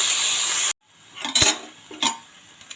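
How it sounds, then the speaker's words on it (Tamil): Tomatoes and salt sautéing for tomato biryani: a steady bright sizzle, then a sudden drop to quiet with a few clinks and scrapes of a spoon stirring in the pan. "இதை ஓரளவுக்கு நல்லாமல் வதக்கி எடுத்துக்கலாங்க."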